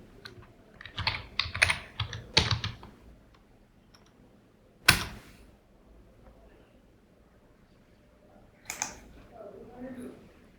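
Computer keyboard typing in bursts of quick clicks during the first few seconds, then isolated louder key taps and a brief cluster near the end, fairly close and alone with no talk.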